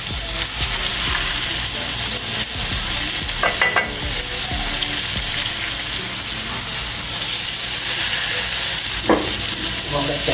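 Chicken fried steaks fry in butter in a pan just after being flipped, giving a continuous loud sizzle and hiss with a few brief scrapes and clatters.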